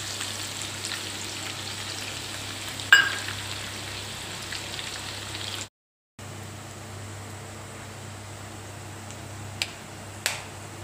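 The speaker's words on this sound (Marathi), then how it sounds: "लसूण परतले गेलं आहे." Garlic frying in a pan with curry leaves and ginger-garlic paste gives a steady, even sizzle with a sharp tap or click near the start and a couple of faint clinks later.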